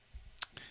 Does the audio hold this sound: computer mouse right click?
yes